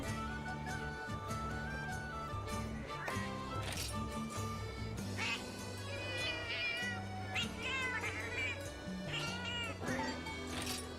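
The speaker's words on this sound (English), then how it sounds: "Looks like the stock cat sounds just pitched up slightly." Pitched-up stock cat meows from the video game Monster Hunter Generations Ultimate, repeated mewing and drawn-out caterwauls over game music, loud and continuous for about eleven seconds.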